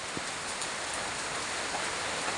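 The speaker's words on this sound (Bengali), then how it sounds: "একটু বাইরে বৃষ্টিটা এনজয় করি।" Steady rain falls outside a home, a soft even hiss of drops with no breaks, heard alone at moderate distance.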